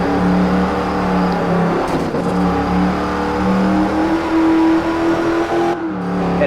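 Race car engines in Forza Horizon rev and drone steadily throughout, with rising and shifting engine pitch during a Ford Challenge race and no talking.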